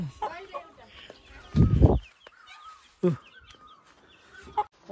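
A local chicken gives a few short clucks, loudest in one burst near the middle, while people talk quietly nearby.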